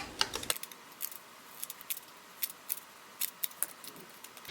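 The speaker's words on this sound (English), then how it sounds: "I'm just going to grab my scissors that have this jagged edge, and I'm going to go around it with that." Jagged-edge craft scissors snipping paper around a mini junk journal card: a quiet run of short, crisp metallic clicks and snips at an irregular rhythm, close up, with no talking.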